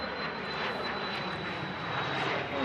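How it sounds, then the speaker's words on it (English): An Embraer Legacy 500 corporate business jet takes off at Manchester Airport: a steady, loud, broad engine roar that holds continuously with a thin high whine running through it. "just taking off another corporate BizJet"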